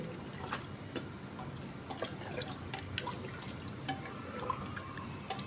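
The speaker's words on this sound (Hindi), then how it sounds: "अब इसमें जो हमने यखनी निकाल के रखी थी गोश्त छान के, तो वो डाल देंगे इसमें" Strained meat stock (yakhni) is poured into a pot of potato and meat curry, giving a soft, continuous liquid splashing and trickling with faint drips, quiet and close.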